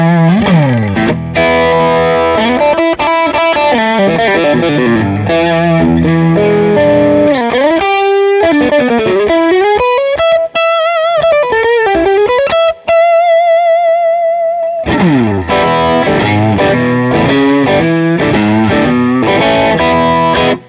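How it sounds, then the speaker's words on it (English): Electric guitar driven through a BB Preamp overdrive pedal, thick distorted chords and riffs with sustained bent lead notes, loud and continuous, played alone without talk. "So let's check out just the BB Preamp."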